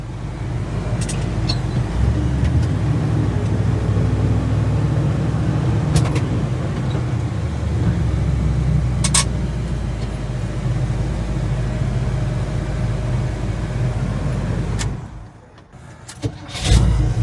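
A car with failing brakes, steering and A/C drives along with a steady low engine rumble and road noise, then slows and quiets as it pulls in for gas; there's no talking.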